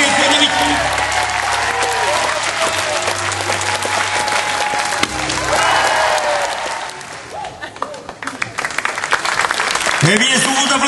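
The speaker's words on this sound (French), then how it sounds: "ça mérite quand même des applaudissements du public" Steady, loud audience applause fills an outdoor equestrian show in Cazaubon, with a voice talking over the clapping and a brief dip before it swells again near the end.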